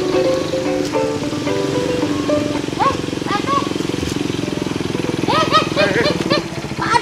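A motorcycle engine runs at a steady rhythmic putter close by, with voices chattering over it and some bird-like chirps, the engine's throb continuing throughout.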